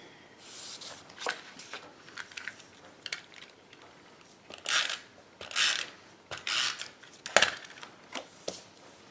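Adhered card stock for a holiday card is trimmed with a paper trimmer, giving a series of quiet, irregular scraping slides and clicks with pauses between them at close range.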